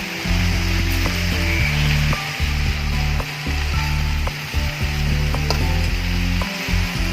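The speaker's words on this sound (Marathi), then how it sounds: "चला तर आपण भाजी परतून घेऊया" Kurdu greens being stir-fried in a kadhai the traditional village way, a steady close sizzle with repeated stirring scrapes and clanks of the spatula against the pan.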